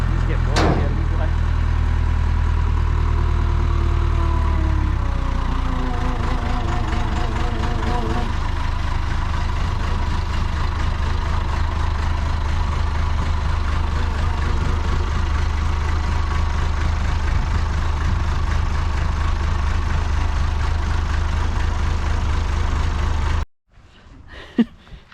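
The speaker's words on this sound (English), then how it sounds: "That motor runs and has oil pressure." An International Acco 1830B truck engine runs at a steady, loud idle with a deep drone, with voices talking over it, before it cuts off abruptly near the end.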